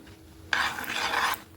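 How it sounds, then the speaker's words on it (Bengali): Thick palm fruit kheer stir-fried in a pan, heard as one close, rasping scrape of a spatula lasting about a second, with no talking. "চলো এভাবে পাঁচ মিনিট ভাজা নিই"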